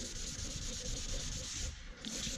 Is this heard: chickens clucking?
no